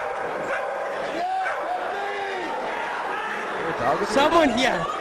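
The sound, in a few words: dog barking at wrestling show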